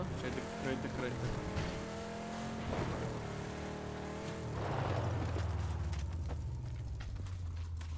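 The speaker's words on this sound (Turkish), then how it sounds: "Araba geliyor ya." A vehicle in PUBG drives across the Miramar desert map, its engine whining and shifting pitch as it accelerates and decelerates, with a rougher surge midway, while players talk over it.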